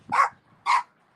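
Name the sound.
small dog barking, like a chihuahua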